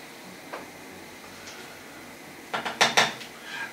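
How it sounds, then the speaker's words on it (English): A metal spoon scrapes and knocks against a pot of chicken drumstick curry on a gas stove, a few faint taps at first and then a cluster of loud clanks near the end, with no talking. "So I'm going to give him a good stir."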